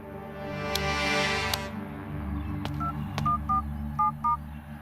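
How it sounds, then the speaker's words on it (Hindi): Telephone keypad tones beep in short, evenly spaced bursts, several in a row, over a low background hum and a couple of sharp clicks. "अपने भाई को फोन लगाओ"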